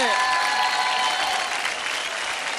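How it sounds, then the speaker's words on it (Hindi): Loud, dense audience applause after a dance performance on Dance India Dance, a continuous roar of clapping with faint cheering, fading slightly toward the end. "जोरदार तालियां हो जाए धर्मेश सर और श्याम के लिए"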